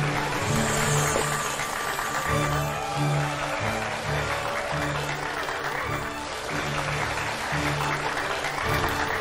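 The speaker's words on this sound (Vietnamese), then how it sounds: "Xin một tràng pháo tay chào đón hai bạn nữ." A studio audience at a Vietnamese dating show claps steadily to welcome two women onto the stage. The applause is loud and continuous throughout, with a low hum and music underneath it.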